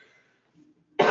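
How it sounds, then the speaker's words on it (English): A single sharp cough from a woman, close to the mic, comes after a brief quiet pause and faint murmur. "Oh, I need to cough now."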